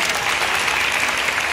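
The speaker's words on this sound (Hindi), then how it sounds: "इधर वाले बच्चे कक्षा 7वीं 8वीं जोर से ताली बजाओ" Children at a school prize ceremony applaud steadily and loudly, a dense continuous clapping with no talk over it.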